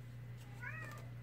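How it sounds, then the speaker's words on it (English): A single cat meows once, a short, clear rising-and-falling call over a low steady indoor hum. "Can you hear the cat meowing?"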